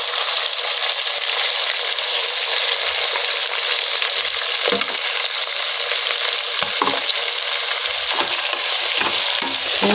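Masala paste frying in a pan for masala rice bath, a steady loud sizzle with occasional stirring scrapes throughout, no voices.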